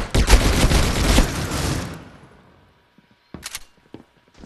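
MP5 submachine gun fire in the Critical Ops mobile shooter, a loud rapid burst of several close shots over about two seconds, trailing off, followed by a few short faint clicks and taps.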